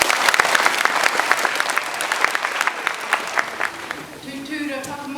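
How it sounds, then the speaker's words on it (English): Audience applause fills a hall at a school prizegiving, a dense and even patter of many hands lasting about four seconds before a voice begins singing or chanting as the clapping fades. "I'd like you to take a round of applause"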